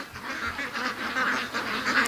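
Ducks in a yard give a steady chorus of honking quacks, close and continuous, overlapping one another with no pauses.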